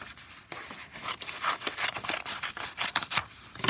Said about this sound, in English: and then I cut down the middle.